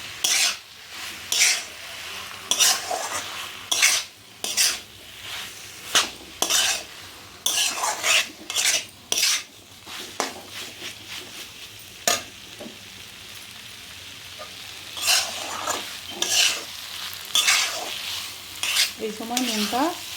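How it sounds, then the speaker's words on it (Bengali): Fried papaya is stirred together with potatoes in a pan, with repeated scraping strokes of a spoon against metal over a soft frying sizzle, a close, irregular rhythm running throughout. "এখন এটা পেঁপেটা আলুর সঙ্গে ভালো করে আমি মিশিয়ে নেব।"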